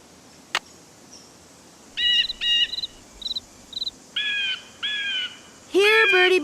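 Birds calling in the video game Ghost Dogs of Moon Lake: a sharp click, then a series of short, bright chirps and whistled phrases in quick bursts, ending in a louder rapid trill, over a quiet ambient bed.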